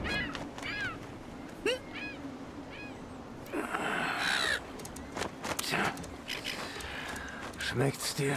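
A bird caws several times in the video game Wolfenstein 2, short distinct calls over a steady background hum, followed by louder rustling and clatter.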